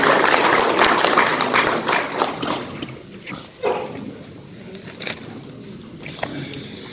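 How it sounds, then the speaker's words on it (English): A sales conference audience bursts into loud applause that fades over the first few seconds, then gives way to quieter room noise and talking. "Give yourself a round of applause and thank you so much."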